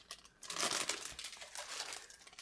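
A small plastic bag holding the clear glazing and light parts from an AVD Models ZiL-157K workshop truck scale model kit crinkles close up in steady rustling bursts, with no talking.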